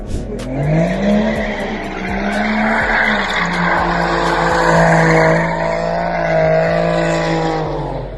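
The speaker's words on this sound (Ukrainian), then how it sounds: "Ревіння двигунів, яке розриває нічну тишу" Car engines roaring and revving continuously at night street racing in Lutsk, with rising and falling pitch and occasional tire squeal, loud and close.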